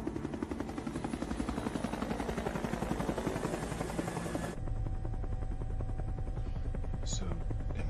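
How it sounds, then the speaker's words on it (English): A helicopter flies with a loud, steady chopping rotor throb and turbine whine, the texture shifting abruptly partway through, as the rhythmic pulsing continues to the end. "So, am I to assume this chopper is safer than the last one?"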